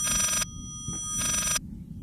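A phone rings in the horror game Layers of Fear: two clear trilling bursts separated by a pause, each about half a second long and fairly loud, with a faint knock between them over a low ambient hum.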